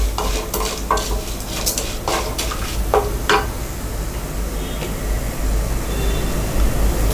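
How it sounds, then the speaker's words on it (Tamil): Fennel seeds, cinnamon bark and other whole spices dry roast in a pan for moong dal sambar, with a spoon scraping and stirring in quick, scratchy strokes over a steady gritty rustle, close and without talk. "சோம்பு, இது எல்லாத்தையுமே நம்ம வந்து போட்டு வறுத்துக்கலாம்."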